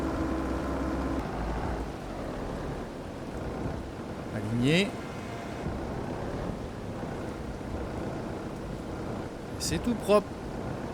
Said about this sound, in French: J'arrive à temps parce qu'il commence à bien pleuvoir.